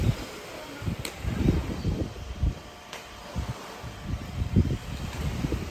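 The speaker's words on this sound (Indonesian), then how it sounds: "Sore ini kelihatannya anginnya cukup kencang." Strong wind at a beach resort buffets the microphone in uneven gusts and low rumbling bursts, with a faint steady hiss behind it and no speech.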